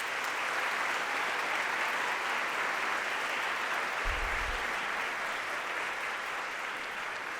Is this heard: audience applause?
yes